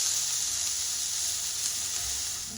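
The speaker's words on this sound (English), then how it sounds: "our pan is ready for us, and so we're just gonna put in the onions right now" Onions sizzling in a hot pan, a steady bright hiss of frying, close and even throughout with a slight fade at the end.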